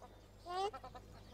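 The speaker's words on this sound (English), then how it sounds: "white domestic goat." A white domestic goat gives a single short, quavering bleat over a faint background hum, with a few softer trailing sounds after it.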